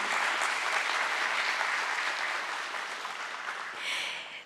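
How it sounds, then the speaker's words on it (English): A crowd claps steadily in a dense wash of applause that holds for several seconds, swelling briefly near the end, at a company stock listing ceremony. "I request everyone to give a huge round of applause"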